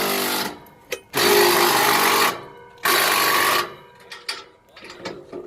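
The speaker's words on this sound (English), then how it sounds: "He's finishing up tightening the last clamp down there" A power tool tightens the last clamp on new 7-inch exhaust stacks on a W9 truck, running in two loud sustained bursts separated by a short gap, followed by a few brief whirs and clicks.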